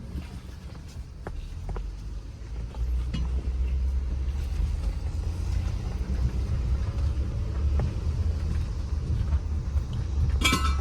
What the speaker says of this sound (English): I'm just gonna drive around the parking lot real quick, just to see if I hear something